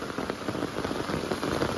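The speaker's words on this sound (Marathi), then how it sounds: "पाऊस तर काही विचारूच नका थांबायचं नाव घेत नाही आहे" Heavy monsoon downpour drumming steadily on surfaces nearby, a dense continuous hiss of raindrops with no pauses or voices.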